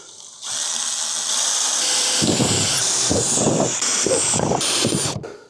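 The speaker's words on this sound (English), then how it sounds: "Now we're gonna drill these holes out." A power drill whirs up and bites into metal, its whine shifting pitch as it cuts, with grinding bursts, close and loud.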